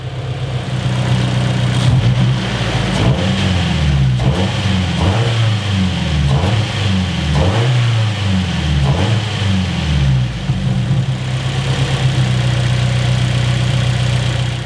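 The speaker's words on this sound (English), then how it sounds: "rev the engine, and if your engine mounts are bad" A car engine idles loudly up close, then is revved repeatedly in rising and falling swells before settling back to a steady idle.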